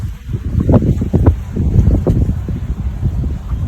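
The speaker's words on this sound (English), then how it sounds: "I hope you can hear the wind." Wind gusting around an open-air shower at a Maldives resort villa, a loud buffeting rush against the microphone that rises and falls in waves, with no talk.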